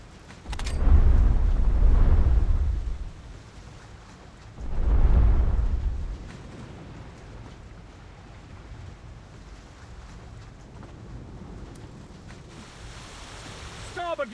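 Warship engines and open sea in War Thunder Mobile: two loud low surging swells early on, then a steady dull rumble of engine and water, with a brief whistling tone near the end.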